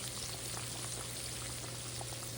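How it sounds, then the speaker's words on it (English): Chicken frying in a pan for smothered chicken: a steady, fairly quiet crackle and sizzle of hot oil, even throughout with no talking. "I have flipped the chicken on the other side so you see how it's frying up beautifully."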